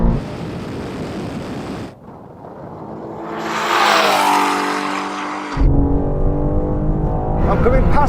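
A Bugatti Chiron pulls hard in a drag race against tuned BMW M5 and M4 cars, its engine roaring loud and close as it climbs through a long swelling acceleration, with other engine and road noise before and after.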